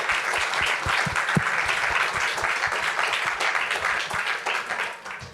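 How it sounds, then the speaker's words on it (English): The audience applauds the teams at an international ocean hackathon grand final, with a full, sustained round of crowd clapping at steady loudness that eases off at the end. "if all of you can applaud them"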